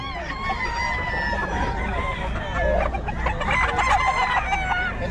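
Roosters for sale at a Filipino market day, one crowing loudly midway amid clucks and steady crowd noise, with people talking around them.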